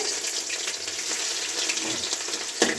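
Ginger dropped into smoking hot oil in a pan, giving a loud, constant close-up sizzle and crackle that holds steady throughout, with a brief clatter near the end.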